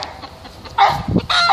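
A backyard rooster makes a couple of loud, close calls of clucking and crowing, with quieter fowl noises in the gaps.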